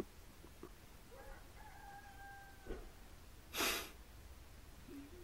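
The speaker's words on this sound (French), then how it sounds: "on entend les coqs" Distant roosters crow faintly outdoors, with a brief burst of noise midway and a quiet rural background.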